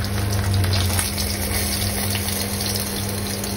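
Steady hissing sizzle of fish frying in hot oil, continuous and close, with a low hum underneath and no talking.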